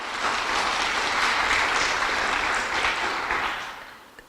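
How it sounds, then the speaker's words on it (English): Audience applause at a village manager search meeting, a steady burst of clapping from a room of people that swells and then tapers off over a few seconds. "I want you guys to do that applause one more time for yourselves"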